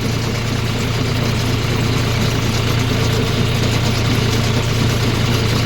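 A 2021 John Deere 5050D tractor engine runs in a steady, loud low rumble, heard close up and continuous with no talk.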